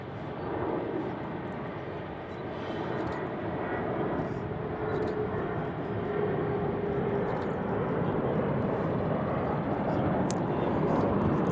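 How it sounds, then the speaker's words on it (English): A PSA CRJ 900 regional jet taking off from Raleigh-Durham International Airport, a steady broad engine roar that builds slowly and stays loud throughout, with someone talking over it. "we got a takeoff here. Another early rotation, a PSA CRJ 900."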